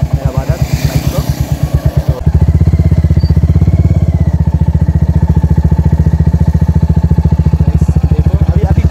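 A Royal Enfield Hunter 350 motorcycle engine runs steadily at close range, a loud, even thumping pulse that grows fuller and louder after the first couple of seconds as the bike is turned around at night.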